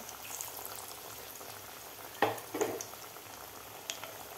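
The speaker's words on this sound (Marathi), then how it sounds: "आता हे सुद्धा आपल्याला गोल्डन कलर होईपर्यंत आपल्याला तळून घ्यायचे आहेत." Lentil vadas deep-frying in hot oil until golden, making a soft steady bubbling sizzle with a couple of louder splashy crackles midway, as if pieces are moved or added.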